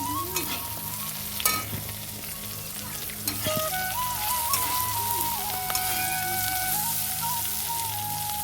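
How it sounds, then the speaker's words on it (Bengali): Bitter gourd slices frying in a pan until reddish brown, with a steady sizzle and intermittent stirring scrapes over a faint wavering tonal background. "আজকে উচ্ছে ভাজাটা না একটু লাল লাল করেই ভাজলাম"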